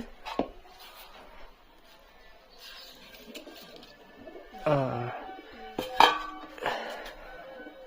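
Fried eggs set into a curry in a cooking pan, with a few sharp metal clinks of utensil on pan and soft scraping, scattered and fairly close, over a quiet kitchen background.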